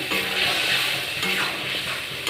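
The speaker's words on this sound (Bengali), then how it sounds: "এটাকে ভালো করে এখন বেশ কিছুক্ষণ ধরে কষাবো মশলার কাঁচা গন্ধটা চলে যাওয়া পর্যন্ত" Steady loud sizzle of pointed gourd being fried with turmeric, salt and spices in a hot pan, a constant dense crackle with faint stirring scrapes throughout, no voices.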